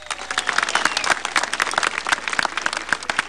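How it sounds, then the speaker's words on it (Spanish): Outdoor crowd at a presidential event in Pichari, Cusco, Peru, clapping loudly and close with sharp, dense, slightly uneven hand claps throughout, no talk over them. "y eso merece un aplauso, señores."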